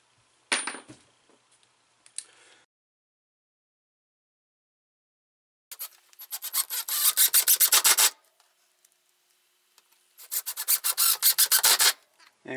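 2.5-inch exterior screws driven into wooden storage shelves with a power driver, two close, loud bursts of rapid grinding rotation separated by pauses, with a few short clicks and taps before them.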